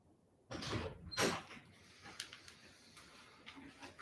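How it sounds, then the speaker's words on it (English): A door opens, picked up over a microphone: one fairly loud burst of handle and hinge noise, then quieter shuffling, with no talking. "You can like definitely hear the door open perfectly over the mic"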